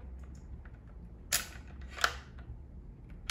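Metal bolt slid into the action of a Hardy hybrid air rifle, two sharp mechanical clicks about a second apart over a quiet room hum.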